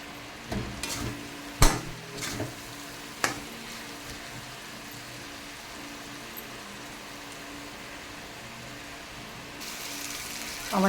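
Potatoes fry in hot oil with turmeric and salt, making a steady, soft sizzle throughout, broken by a few sharp clinks and scrapes of a spoon stirring against the pan early on.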